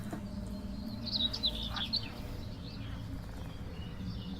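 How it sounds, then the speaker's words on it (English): Faint birds chirp in a few quick, high tweets over a steady low background hum, coming from a livestreamed game, with the calls clustered early and then fading away. "Let's kill those birds."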